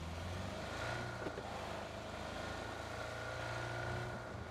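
A car engine drones in the video game PUBG, a steady low rumble with slight shifts in pitch, heard from a moderate distance under a noisy game backdrop.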